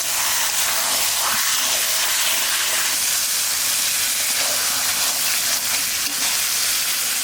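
Loud, steady sizzling and hissing of mutton being sautéed in a pan for curry, a dense frying roar that holds throughout, with faint stirring scrapes and no talking.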